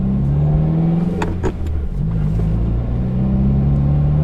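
A car engine idling along at low RPM around 20 mph, a steady loud droning hum inside the cabin with a brief higher whine partway through and no one speaking.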